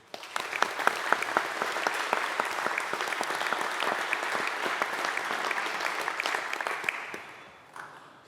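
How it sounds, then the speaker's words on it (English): Graduation ceremony guests in a chapel give a steady round of applause for the graduates, even dense clapping at moderate volume that holds for several seconds before tapering off at the end. "Let's give them a huge round of applause."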